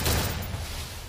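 Gunfire in the Free Fire video game crackles in a brief, fairly faint burst of rapid shots, with no voices over it.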